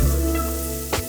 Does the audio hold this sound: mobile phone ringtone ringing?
no